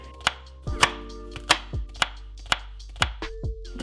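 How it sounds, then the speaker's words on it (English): A knife dices a quarter of an onion on a cutting board with about ten sharp, close knocks in an uneven rhythm, each chop ringing briefly and then stopping. "we diced our 1/4 of an onion"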